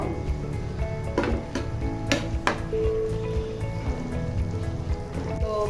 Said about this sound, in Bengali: এখন এই পেঁয়াজটাকে তেলের সাথে নেড়ে চেড়ে একটু বেরেস্তা করে নিব